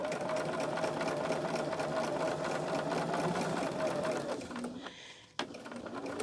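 A sewing machine runs steadily, stitching a quarter-inch seam on a charm-pack tote, a close, even mechanical whir that slows and stops near the end, followed by a brief click.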